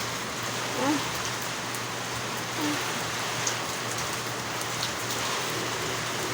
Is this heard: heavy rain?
yes